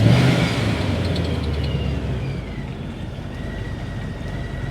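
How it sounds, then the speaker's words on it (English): Supercharged 3V Ford Mustang engine starting and idling, a loud continuous rumble with a high blower whine rising and holding, steady and close throughout. "This thing just flares up so much when it starts. It's loud too. All you hear is blower."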